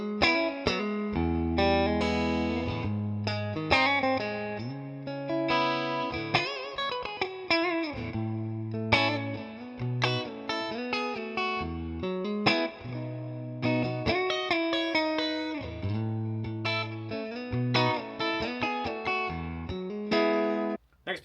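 A clean Ibanez PGM electric guitar on its middle pickup alone plays strummed chords and picked riffs, bright and steady with light effects, no voices.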